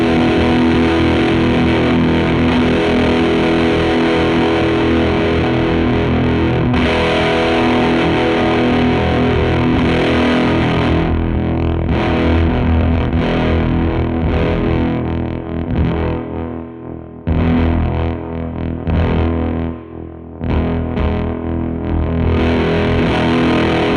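Electric guitar through a fuzz pedal with the drive cranked and the bite turned down, a thick saturated wall of sustained chords that thins briefly in places, loud and close with no talk.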